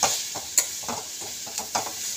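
A spoon stirs modak filling in a pan, making soft, irregular scraping strokes, a few sharper clicks against the pan, with no talk.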